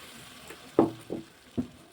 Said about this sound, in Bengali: মটন কিন্তু কষানো হয়ে গেছে এবার আমি পরিমাণ মতো জল দেবো